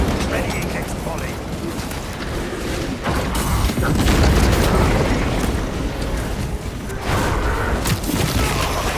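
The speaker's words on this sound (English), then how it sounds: "Deployed crack grenade." Crack grenade detonating in Warhammer 40K Space Marine 2, a loud dense boom that swells and rumbles over a dense wall of battle noise and gunfire, peaking mid-way and staying heavy throughout.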